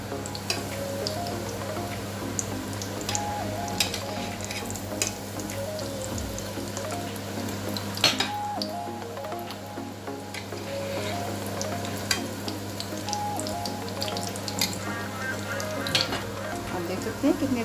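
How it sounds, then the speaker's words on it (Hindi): Resha kebabs fry in a pan over low heat with a steady, close sizzle and soft crackle throughout, dotted with occasional light ticks, no talking. "हल्की आंच पे हमने तकरीबन इसको बनाया है, बहुत अच्छे पक रहे हैं। इनको हम भी थोड़ी देर और पकाएंगे दूसरी साइड से भी।"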